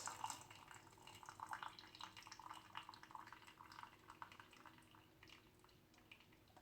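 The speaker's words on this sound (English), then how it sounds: "Just strain the water out." Rice water is strained from a pot, with faint scattered drips and trickles of liquid falling close by, strongest at the start and thinning out, quiet overall with no speech.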